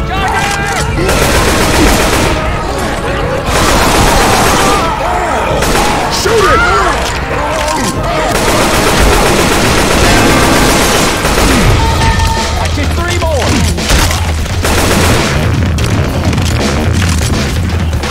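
Rapid gunfire from Left 4 Dead 2 in the Dead Center campaign on Normal difficulty, dense bursts and booms firing almost continuously and loudly, with players shouting over the shooting throughout.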